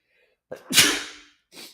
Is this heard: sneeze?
yes